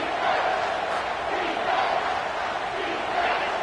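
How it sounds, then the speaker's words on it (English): A football stadium crowd roars steadily during a final defensive drive, a dense, sustained wash of cheering voices at a distance with no single speaker. "Crowd getting cranked up, trying to help this defense on the final drive."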